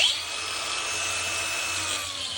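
A power tool grinds through floor tile, a loud, steady high-pitched whine with gritty cutting noise running continuously, close by.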